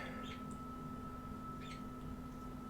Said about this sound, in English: Oh, you listen to that bird.